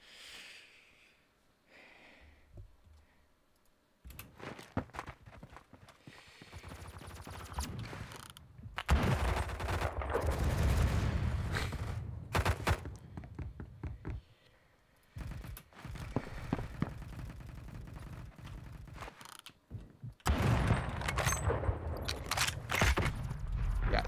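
Loud, booming BFG-50 sniper rifle shots with heavy mechanical action noise from the Phantom Forces shooting game, the rifle fitted with a muzzle brake; several bursts of gunfire and bolt clatter fill the stretch with brief quiet gaps between.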